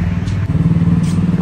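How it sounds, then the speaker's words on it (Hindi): A Harley-Davidson Street Bob motorcycle engine rumbles close by in a low, throbbing idle, a short steady burst of pulsing exhaust. "ये थी हमारी बाइक जो आज मैं चला रहा था, वो हार्ले डेविडसन स्ट्रेट बॉब थी"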